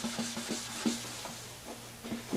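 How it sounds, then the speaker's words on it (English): Sandpaper rubs back and forth with the grain across a lacquered guitar body in quick, even, repeated straight strokes during final sanding, close and fairly loud, with no voices. "I prefer to use straight strokes with the grain in the final sanding."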